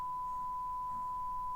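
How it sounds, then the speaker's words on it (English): A steady 1 kHz sine test tone from Ableton, a single pure pitch holding evenly and quietly with no talk over it. "1000 hertz, no, a 1 kilohertz tone"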